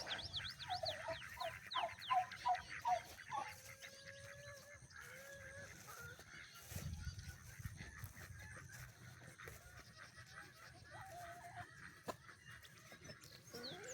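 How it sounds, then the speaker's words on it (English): Chickens and other fowl cluck and call in a busy outdoor barnyard, several birds overlapping at moderate distance, with a brief thump partway through. "and some of our chickens."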